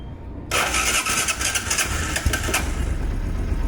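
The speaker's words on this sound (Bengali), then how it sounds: "এক সেলফে স্টার্ট, খুবই সুন্দর কন্ডিশন আছে সাউন্ড" A Bajaj Platina 102 motorcycle in near-new condition fires up on the self-starter, then settles into a loud, steady idle close by, with no talk over it.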